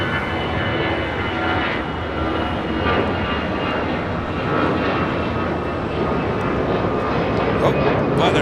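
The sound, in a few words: airplane taking off at LAX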